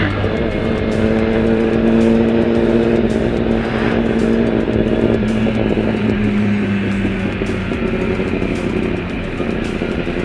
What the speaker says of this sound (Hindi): क्या ही साउंड है SC प्रोजेक्ट का।